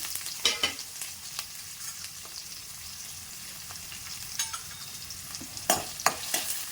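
Sliced onions and cumin fry in oil for a brinjal dish, a soft, steady sizzle broken by scattered clattering stirs of a spoon against the pan. The stirring grows busier toward the end, heard close and without speech.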